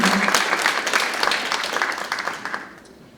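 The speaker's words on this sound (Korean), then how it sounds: "큰 박수 부탁드립니다" Audience applause at an indoor policy forum on fishing-boat safety, starting strong and then fading toward the end, a dense steady patter of many hands clapping.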